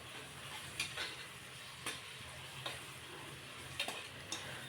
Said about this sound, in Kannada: ಟೊಮೊಟೊ ಸ್ವಲ್ಪ ಸಾಫ್ಟ್ ಆಗೋವರೆಗೂ ಸ್ವಲ್ಪ ಎಣ್ಣೆಯಲ್ಲಿ ನೀಟಾಗಿ ಫ್ರೈ ಮಾಡ್ಕೊಳ್ಳೋಣ